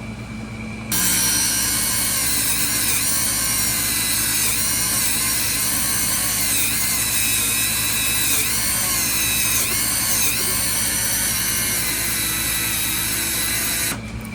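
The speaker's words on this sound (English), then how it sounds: "Take it over here on the wire brush" A Dremel rotary tool fitted with a wire brush scrubs rust off an old 1940s Hammer Brand Jack-O-Matic knife, a steady loud high whine with gritty scraping that starts after a second and runs unbroken, its pitch dipping briefly under load.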